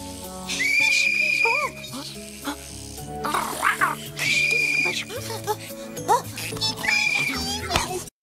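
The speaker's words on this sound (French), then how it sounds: "c'est pas fort comme sifflet" Three long, steady high whistle blasts ring out amid a noisy crowd at a football World Cup match, with overlapping voices and music.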